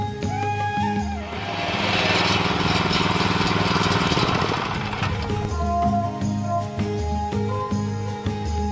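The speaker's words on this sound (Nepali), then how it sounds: "हाते ट्र्याक्टर ल्याउनुस्, आनन्दसित बारी जोत्नुस्" An SKT hand tractor's engine runs steadily and loudly, a dense mechanical clatter that swells in the middle and then settles back to a throbbing idle amid other rhythmic machine noise.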